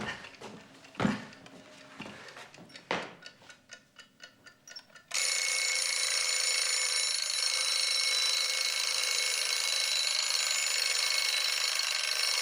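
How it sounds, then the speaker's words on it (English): An alarm clock is heard in a stage performance of Beckett's Endgame. A few seconds of faint ticking and knocking give way to a loud, sustained metallic ringing that carries on unbroken to the end. "The alarm, is it working?"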